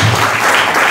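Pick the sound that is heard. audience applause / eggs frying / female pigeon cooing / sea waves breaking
audience applause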